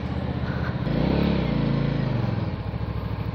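A Benda Chinchilla 450 cruiser motorcycle engine rumbles up close, rising briefly in a smooth rev before easing back to a steady low throb.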